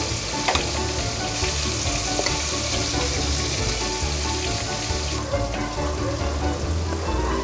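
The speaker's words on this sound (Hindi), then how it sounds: "ये प्याज हम उस मसाले में डाल देंगे" Ground onion paste frying in a spice masala for a tofu shahi paneer, a loud continuous crackling sizzle with a rain-like hiss and faint stirring underneath, steady throughout and close.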